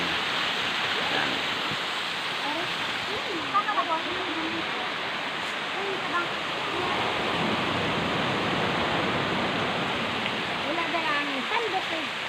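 A waterfall pours steadily with broadband rushing water noise throughout, and faint voices can be heard now and then beneath it.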